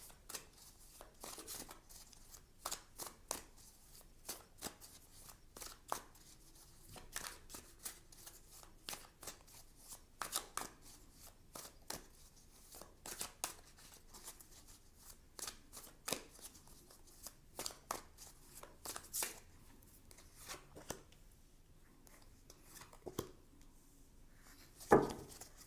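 Tarot cards shuffled and handled at close range, a long run of crisp riffling snaps and soft slides in irregular bursts, with a sharper tap near the end as cards are drawn.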